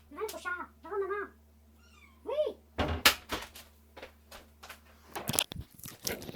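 A large domestic cat meows several times in a row, close by, then bumps and rustles nearby as a person speaks to it.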